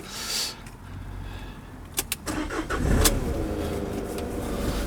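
Two sharp mechanical clunks come in quick succession as the door locks of a 2020 Citroen Jumper cargo van with a 2.2 diesel engine engage, followed by a whirring motor and the idling engine.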